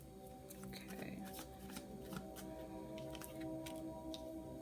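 Tarot cards being shuffled by hand, a steady run of soft riffling flicks and papery slaps at close range over a faint background hum.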